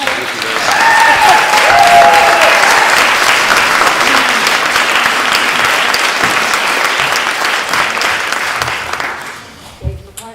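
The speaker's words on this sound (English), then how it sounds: "Let's applaud them for being here." Audience at a village workshop meeting in Nelsonville breaks into loud, sustained applause that swells, holds for several seconds, then fades out near the end.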